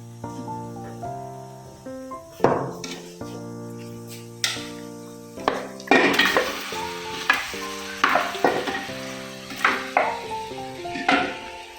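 Marinated chicken pieces sizzle steadily in a hot pan for a green chicken ghee roast with onions, broken by a series of loud scraping stirs and spoon knocks against the pan.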